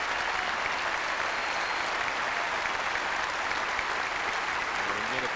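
A large audience at the 1995 Du Maurier Open tennis award ceremony in Montreal applauds the tournament director, a thick, continuous roar of clapping that stays loud and even throughout.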